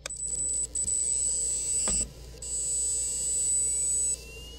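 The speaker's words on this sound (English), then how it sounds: "Sounds like a jet starting up and powering down." A Losi Promoto MX RC motorcycle's flywheel spins up with a steady high-pitched whine like a jet turbine, cutting out briefly near the middle before resuming and holding, then stopping; close, clear and alone.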